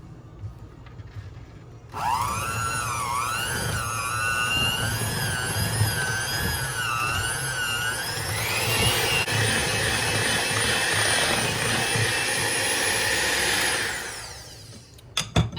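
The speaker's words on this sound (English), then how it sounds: "Now I'm gonna mix this with my mixer." Electric mixer creaming butter with vanilla and caster sugar in a bowl, a loud steady motor whine that starts abruptly, rises in pitch partway through and runs alone for about twelve seconds before cutting off.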